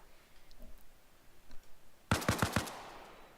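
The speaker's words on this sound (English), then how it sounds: "We got Gerbert shooting straight from up the hill" Video game gunfire: a quick burst of about five sharp, close shots fired in rapid succession after a quiet stretch of faint background noise.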